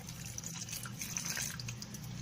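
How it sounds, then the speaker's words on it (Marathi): Steady running water splashing into a pot of peanuts, a continuous broadband wash with faint dripping accents, fairly quiet and close, with no voices. "पाणी घालायचं"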